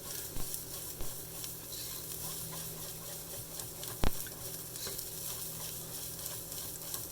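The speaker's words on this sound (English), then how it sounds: "I can hear the sizzling in the pan even as I'm stirring and moving it around" Garlic sizzles in a hot pan while being stirred. A quiet, even frying hiss runs throughout, with a few light taps of the utensil against the pan and one sharper knock near the middle.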